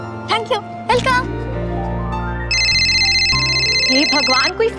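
A telephone ringtone rings in a house, a bright repeating electronic tone that comes in partway through, loud and close, with music and voices around it.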